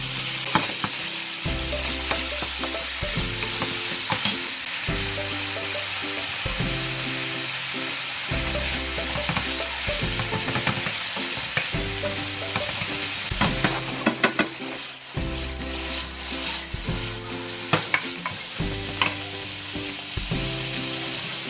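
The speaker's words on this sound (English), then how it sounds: "You want to hear that sizzle?" Beef sizzles loudly with browned garlic in a hot pan for Vietnamese shaking beef, a continuous crackling fry broken by repeated stirring and scraping, while background music plays.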